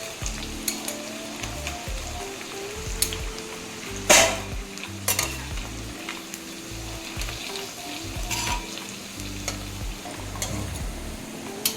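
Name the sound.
arbi (taro root) pieces frying in oil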